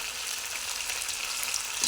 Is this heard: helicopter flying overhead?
no